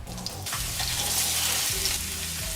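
Eight large cloves of garlic sauté in olive oil, a steady loud sizzle and crackle throughout, with faint kitchen clatter near the start and no talking.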